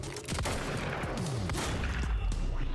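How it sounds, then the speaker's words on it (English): Shotgun blasts ring out in Quantum Break, a dense burst of loud, overlapping shots filling the whole stretch amid other game combat noise. "Get headshot with a shotgun"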